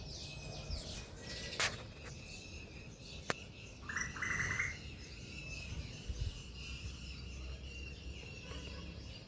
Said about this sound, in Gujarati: ચકલી ને કોયલું પોપટું ને બધા અવાજ એવી સાંભળવાની મજા આવે